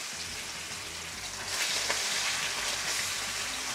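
Salmon fillets fry in a hot pan, a steady crackling sizzle that swells louder partway through, close and alone with no talk.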